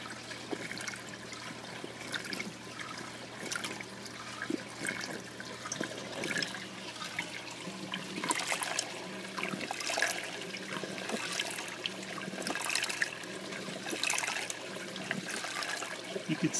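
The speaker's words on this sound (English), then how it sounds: "You could see that we're getting a lot more waves from the WP-40 Jabae pump." Water sloshes and trickles in an aquarium tank stirred by a Jabae WP-40 wave maker pump running in pulsating mode. The splashing is steady and continuous, with rhythmic surges rising and falling under a constant low hum for the whole stretch.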